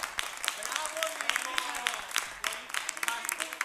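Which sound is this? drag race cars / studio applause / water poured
studio applause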